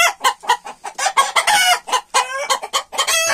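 Chickens cluck in quick, busy bursts nearby on a poultry farm, with overlapping calls and no talking.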